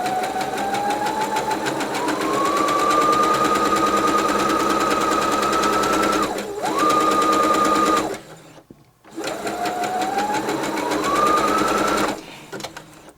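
A sewing machine stitches short, fine fabric pieces for wedding favors, its loud, rapid motor whirring up in pitch and running continuously, with one brief pause and a short silent break between runs.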